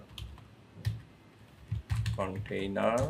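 Quick keystrokes on a computer keyboard while code is typed, a run of close, soft clicks, with someone talking over the second half.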